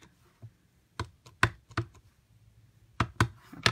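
Several sharp taps and knocks of a Merry Christmas stamp pressed onto cardstock, in uneven clusters with short pauses between, fairly close and quiet, with no talking.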